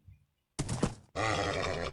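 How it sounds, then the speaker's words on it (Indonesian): A horse in a survival video game lets out a short snort, then a loud, drawn-out neigh close by. "Oh, ini ada kuda coy."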